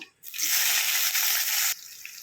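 Chopped onion drops into hot oil already tempered with cumin, asafoetida and dried red chillies for sambar, giving a sudden loud hiss and sizzle that holds steady for about a second and a half, then eases to a quieter crackle.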